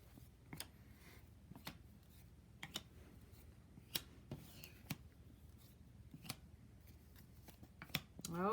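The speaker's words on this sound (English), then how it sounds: "I'm going to bring out the board and I'm going to lay some cards on the board" Cards laid one by one onto a board for a preschool opposites-matching activity, giving sharp, light taps and slaps spaced a second or so apart in a quiet room.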